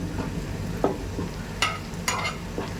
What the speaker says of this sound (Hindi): अब इसको हम फ्राई कर लेंगे अच्छे से